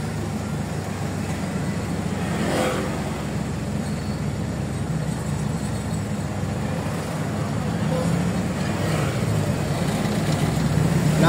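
Congested road traffic near flood-control works in Malolos, Bulacan, during typhoon Uwan closures, a continuous low rumble of cars and heavier vehicles with occasional passing swells, steady and fairly close.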